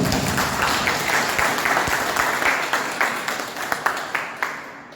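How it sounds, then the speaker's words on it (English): An audience at a residential cricket tournament introduction applauds, a moderate crowd of hands clapping that thins out toward the end into a few scattered, distinct claps. "A big round of applause for her."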